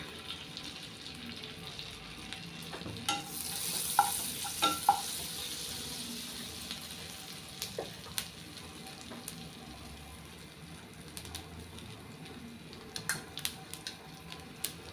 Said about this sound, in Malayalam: ഇനി ഇതിനകത്ത് കുറച്ച് ജീരകം ഇട്ട് കൊടുക്കാം.